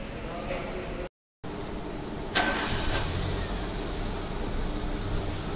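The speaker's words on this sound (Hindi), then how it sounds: "हम ये गाड़ी को स्टार्ट कर रहे हैं" A Chevrolet Uva car starts up just after a brief gap following an oil leakage repair, its engine catching with a sharp burst and then settling into a steady idle under a man's speech.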